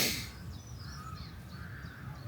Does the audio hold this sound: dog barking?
no